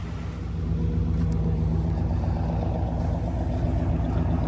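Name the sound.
old car engine running after spark plug wire fix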